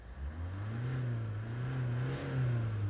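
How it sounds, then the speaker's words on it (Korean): A used Hyundai Tucson ix with about 95,300 km idles steadily nearby, giving a low, even engine hum with a slight rise in revs and no voices. "네, 아주 씩씩한 엔진음을 들을 수 있고요."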